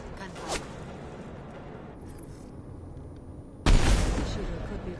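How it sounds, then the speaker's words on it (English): Gunfire in the Mass Effect video game: a brief crack early on, then a sudden loud burst of shots that trails off into a fading rumble. "Gunfire."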